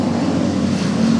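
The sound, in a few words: tricycle passing on the road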